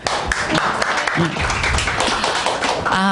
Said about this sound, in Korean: 나오실 때 힘찬 박수 부탁드립니다